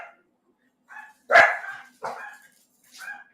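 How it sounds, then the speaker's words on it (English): A dog barks sharply at a delivery arrival, several separate loud barks and yips in quick succession, close by in a quiet indoor room. "I'll mute it, though, so you don't hear the dog."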